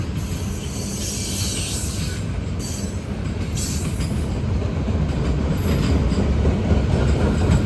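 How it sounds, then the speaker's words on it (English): Norfolk Southern freight train pulled by four locomotives rolls past close by, a loud continuous rumble of wheels with high squealing from the rails and occasional clacking. "They're running all 4 locomotives and not counting the cars on this train."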